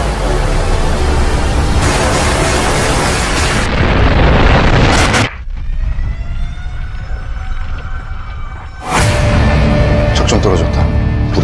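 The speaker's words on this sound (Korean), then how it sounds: "백두산 화산이 폭발했습니다" Mount Baekdu's volcanic eruption in a Korean movie erupts in loud, roaring explosive blasts that cut abruptly into a lower rumbling stretch with tonal whines, then burst back into heavy booming noise.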